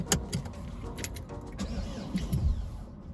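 Car interior with a low engine rumble and faint mechanical whirring throughout, plus a few brief clicks and thumps, fairly quiet overall.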